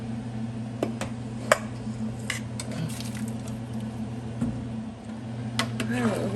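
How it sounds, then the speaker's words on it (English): Sausage, tasso and vegetables tumble back into a gumbo pot with scattered clanks of metal, soft squishes and scrapes over a steady kitchen hum, while a person talks. "add the sausage, tasso, and veggies back into here"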